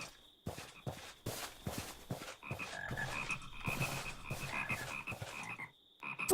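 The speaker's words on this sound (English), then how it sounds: "Frogs!" Frogs croak in a swamp, a dense rhythmic chorus of repeated croaks close by, with soft splashing movement underneath.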